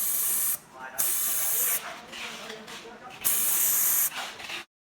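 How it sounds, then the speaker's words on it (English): Shielding gas hisses steadily from the gas line of a TIG-200 welding machine being repaired, loud bursts of spray-like hiss switching on and off several times, with brief quieter gaps between. "You need to press the switch to let out the gas."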